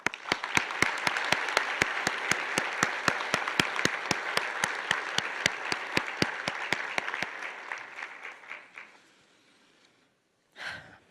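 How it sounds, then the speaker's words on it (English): Audience applause for the team at a Gulf Coast State College honors ceremony, a rhythmic burst of steady clapping that holds for about seven seconds, then fades out, followed by a brief exhalation near the microphone. "And please give them one more round of applause."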